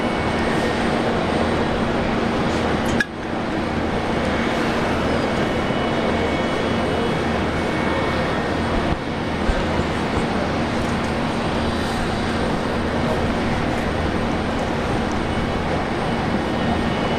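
Boeing 737 jet with 24k engines at Brisbane Airport, a steady loud broadband roar holding for the whole stretch, with a brief dip partway through and no voices over it.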